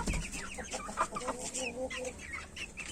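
Village chickens and a rooster cluck and chatter close by, with short bursty calls overlapping throughout against a busy farmyard background.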